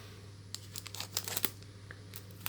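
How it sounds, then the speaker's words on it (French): Scissors cut and tear open sealed Pokémon card packets up close, a series of short crinkly snips and foil rustles in quick bursts against a faint hum. "Prendre le ciseau pour les ouvrir comme ça."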